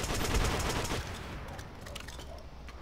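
Rapid gunfire from a fast-shooting gun in Call of Duty: World at War, a dense loud burst of shots that thins out after the first second into a steady rattling volley.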